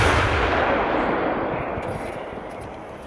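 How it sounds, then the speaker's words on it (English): A French Caesar self-propelled artillery gun firing during a live-fire drill, a single huge, sustained blast and rumbling roar that fills the whole clip and slowly fades, loud and close. "This is the Caesar artillery piece."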